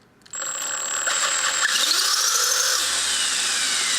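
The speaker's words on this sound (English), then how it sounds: "the helicopter would spool up" An electric RC helicopter motor spooling up from rest, a close whine starting abruptly and climbing steadily in pitch into a sustained high buzz as the rotor reaches speed.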